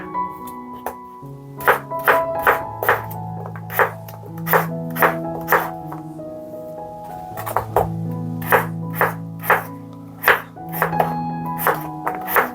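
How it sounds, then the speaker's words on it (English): A knife chops potatoes and onion on a board in a home kitchen, sharp close knocks falling in a steady, slightly uneven rhythm over soft background music, with no talking. "now we start cutting potatoes and onion"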